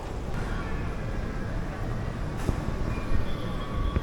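A steady rumble of an airport people mover train rolling along rails at Doha airport in Qatar, with a continuous low hum and faint squeaks, plus a few soft clicks near the end.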